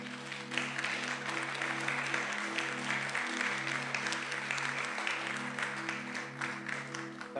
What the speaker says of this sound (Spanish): Da un aplauso al Señor.